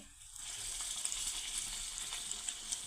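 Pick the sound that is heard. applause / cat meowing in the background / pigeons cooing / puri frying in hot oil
puri frying in hot oil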